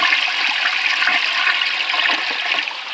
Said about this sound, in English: I guess I can flush a Ford Raptor.